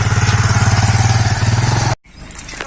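Motorcycle engine thrumming with a fast, regular pulsing beat, loud and close, before cutting off abruptly into a brief silence and quieter rustling, on a very muddy road.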